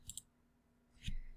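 Two computer mouse clicks, quiet and distinct, the first a quick double click near the start and a single sharper one about a second later, during image editing work on a ring overlay, with no talking.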